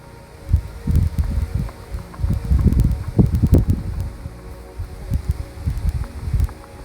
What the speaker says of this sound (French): Un peu de vent, de l'air frais, ça fait du bien.